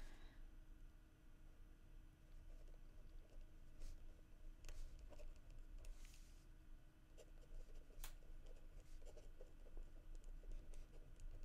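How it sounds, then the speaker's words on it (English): Handwritten note-taking, with faint pen or pencil scratches and light strokes scattered over a quiet background, close but soft, with no speech. "I'm going to try to write this down."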